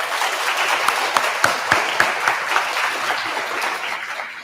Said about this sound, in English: let's give a big round of applause to Deputy Stutz